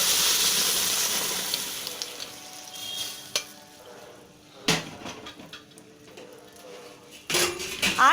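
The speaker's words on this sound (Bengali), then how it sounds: "এবারে প্রেশারের থেকে পুরোটা দেওয়া হচ্ছে" Cooked dal is poured out of a pressure cooker into a hot pan for sambar, giving a broad wet sizzle with scattered scrapes and clinks of a metal utensil against the cookware, near and moderately loud.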